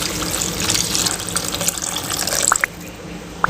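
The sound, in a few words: tamarind extract poured into vathal kulambu in pan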